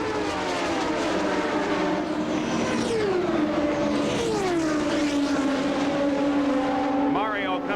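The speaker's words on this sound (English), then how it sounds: "the rest of the field up to full speed" Indy race cars accelerating back to racing speed at the 1992 Indianapolis 500, a dense, loud engine roar with rising and falling pitch sweeps as cars pass, under crowd noise and broadcast commentary.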